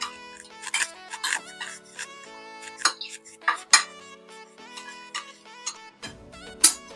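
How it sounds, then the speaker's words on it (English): Spices being mixed in a bowl while making honey glazed chicken wings, with irregular light clinks and taps of a utensil against the dish, close and clear over a quiet background with a steady tonal hum. "mixed spices, so we mix them properly"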